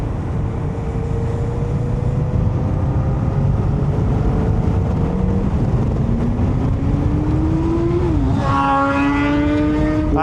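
A stock-exhaust 2025 Yamaha MT-07 motorcycle rides with a steady engine drone that rises in pitch, dips at a shift near the end, then climbs again, all over constant wind and road rush.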